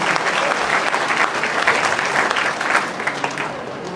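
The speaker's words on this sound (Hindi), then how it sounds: "सभी से प्रार्थना है जोरदार ताली के साथ उनका अभिवादन करें" Audience applause at a religious community gathering, a dense, steady clapping from a crowd that holds loud for several seconds and then thins out slightly toward the end.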